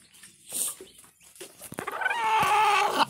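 Brooding hens in a coop give a few soft, close clucks, then a louder drawn-out squawk near the end.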